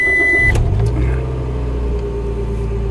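Scion xB engine starting, a short starter whine that quickly catches into a steady, close, low idle rumble that continues to the end.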